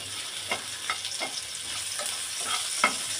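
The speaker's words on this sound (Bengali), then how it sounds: "সাইড দিয়ে আমি একটু তেল দিয়ে দিলাম, দিয়ে শুকনো মরিচ ভেজে নেব।" Dried red chilies frying in a little oil poured down the side of a large wok, a steady close crackling sizzle with soft periodic scraping of a spatula stirring.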